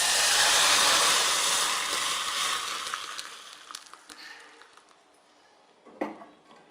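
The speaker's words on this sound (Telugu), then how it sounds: "ఇప్పుడు ఇలా వేగిన తర్వాత మనం మరగబెట్టిన పప్పుచారు వేసుకుందాం" Boiled dal rasam (pappu charu) hits hot tempering in a pan with a loud, hissing sizzle that gradually fades into softer bubbling, followed by a single clink of a utensil.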